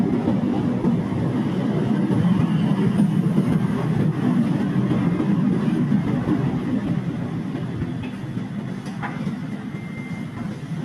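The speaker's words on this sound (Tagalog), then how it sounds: "Unti-unti nang bumabagal ang tren." A train approaching Baclaran Terminal rumbles steadily from inside a carriage as it slows, with a continuous low roar that eases gradually and a few faint clicks and squeals.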